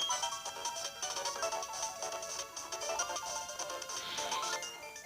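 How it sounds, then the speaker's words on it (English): A legendary Pokemon's cry in the Pokemon Platinum video game, a faint, harsh electronic screech with buzzing, ringing tones that lasts several seconds, with no talk over it. "That was legendary Pokemon crying."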